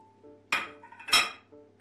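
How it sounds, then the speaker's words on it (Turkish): Shallots go into a pot for a pumpkin stew, two bright close clinks and clatters against metal with a short quieter rattle after, over a faint steady hum. "Öncelikle arpacık soğanları ekleyeceğim."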